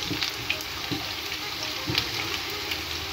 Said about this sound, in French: On met notre oignon, on va les revenir.